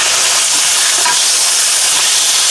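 Pork chops with onions frying in a skillet, a loud, continuous hiss and sizzle filling the whole stretch evenly, close up and without speech.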